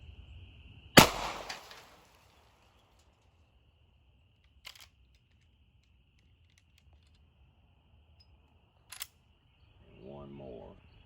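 Three gunshots from an 1894 Marlin .38-40 rifle fired at targets outdoors: a loud crack, then two much fainter, sharp reports spaced several seconds apart, with a brief murmur of speech at the end.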